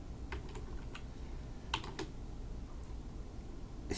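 Scattered keystrokes on a computer keyboard arrive in small bursts and then pause, each click crisp but quiet over a steady low background hum.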